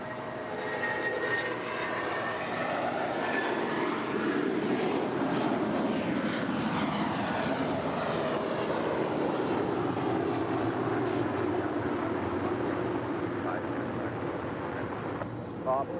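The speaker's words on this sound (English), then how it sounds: "Next departure, United Airlines Flight 1191 heading to Newark. It's a 757-200, 27 years of age" United Airlines Boeing 757-200, 27 years old, departing LAX for Newark, its jet engines a loud, steady roar with sweeping tones as it climbs away, under faint talk.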